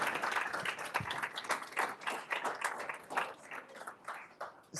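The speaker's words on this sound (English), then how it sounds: "Can I get please a massive round of applause for our 2 speakers?" An audience at an evening event on product pricing applauding two speakers, a sustained mass of clapping from a modest crowd, moderately loud and continuous.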